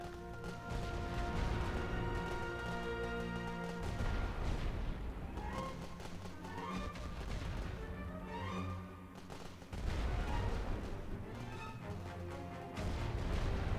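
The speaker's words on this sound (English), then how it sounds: "That's going to be a creeping barrage, isn't it?" A creeping artillery barrage in The Great War: Western Front, booming shell impacts and gunfire under a loud sustained music score, with the explosions rolling in irregular bursts across the whole stretch.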